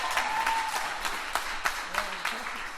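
A church congregation applauds to welcome Pastor David, dense steady clapping from a crowd filling the whole stretch, with a voice speaking over it.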